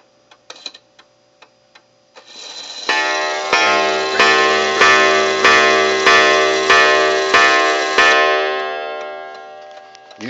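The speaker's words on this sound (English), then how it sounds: "I've never heard a clock chime or gong, if you will, so quickly" A Waterbury Clock Co. mantle cottage 30-hour clock strikes its gong in a quick, steady run of about nine ringing blows, each decaying into the next. Soft ticking comes before the strikes, and the gong is loud and close.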